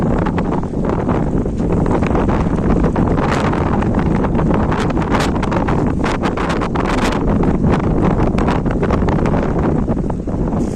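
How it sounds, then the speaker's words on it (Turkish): Strong wind roars steadily into the microphone near a creek, a loud continuous buffeting rumble with gusty rustling throughout. "Rüzgar başladı."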